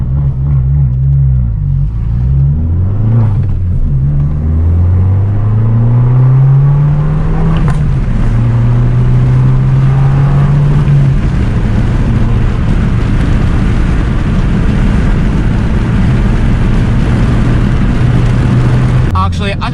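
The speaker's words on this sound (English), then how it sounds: "I'm going to put down both windows so you can hear all the turbo noises and the exhaust" Fiat 595 Abarth driving on back roads with the windows down, its turbocharged engine droning loudly and steadily, pitch rising and falling with revs, exhaust rumble underneath and wind buffeting throughout.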